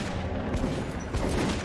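Gunfire in the Metro video game: a dense, loud burst of rapid shots and booms with no talking.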